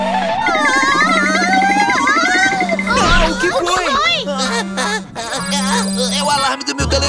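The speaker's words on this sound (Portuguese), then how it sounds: "telefone, desculpe." A telephone rings in a cartoon, steady repeated ringtone bursts over bright background music, while childlike character voices talk throughout.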